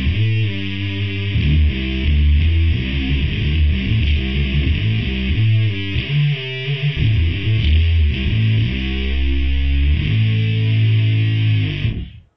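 A distorted synth bass patch layered from Trilian and Omnisphere plays a gritty, heavily processed riff of sustained and stepping notes, loud and upfront with no talking, cutting off at the end.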